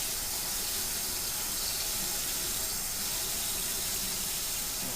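Very hot water pours steadily into a sanitized container while making fruit concentrate wine, a continuous hissing, rushing stream heard close and alone without pauses.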